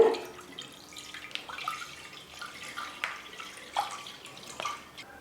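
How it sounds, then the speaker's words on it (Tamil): Half a litre of thick milk is poured into a pan for gulab jamun, a soft, uneven stream of splashing and dripping with a few small clinks, close by and without talking. "அந்த பாத்திரத்தில் 1/2 லிட்டர் பால் சேர்த்துக்கிறேன்."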